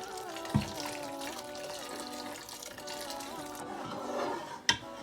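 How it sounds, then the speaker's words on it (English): Boiling water being poured steadily into a bowl, a soft continuous liquid rush with a sharp clink near the end. "We're going to add some boiling water in that."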